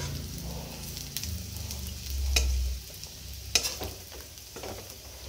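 Gandhabhadulia leaf fritters fry in hot oil with a steady close sizzle, while a utensil stirs and scrapes the pan in occasional sharp taps.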